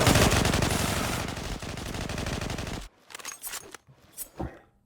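Automatic gunfire in the Zula online shooter game: a sustained, rapid, loud burst of about three seconds, followed by scattered shorter shots and clatter.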